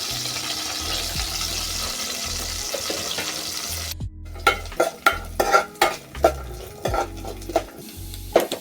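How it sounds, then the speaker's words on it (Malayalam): Coconut pieces fry in a pan for a festive payasam with a broad sizzle that stops partway. A spoon then stirs and scrapes against the pan in irregular, clattering strokes, close and distinct. "തേങ്ങാക്കൊത്ത് മൂപ്പിക്കാൻ പോവുകയാണ്."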